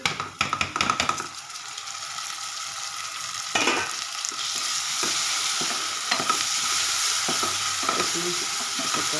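Tomatoes and green chillies sizzle and fry in a pan, a steady crackling hiss running throughout with occasional stirring clatter near the start.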